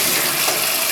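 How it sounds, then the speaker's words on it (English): A sink tap runs in a Japanese apartment kitchen with a gas water heater that lights to heat the water, a loud, steady gushing rush of water close by. "And it heats the water for hot water in the sink"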